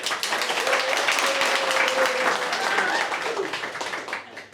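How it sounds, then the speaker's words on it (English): An audience at a Bristol JS programming meetup claps together for a few seconds, a steady dense wash of applause that tapers off at the end, with faint voices mixed in. "So if we can everyone just applaud for a minute?"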